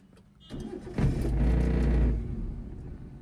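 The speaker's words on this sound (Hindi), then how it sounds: "पूरा क्लच दबा के इंजन स्टार्ट करो।" A car engine cranks and catches, rising to a loud rumbling burst, then settles into a steady idle that slowly fades, heard close up with no talking.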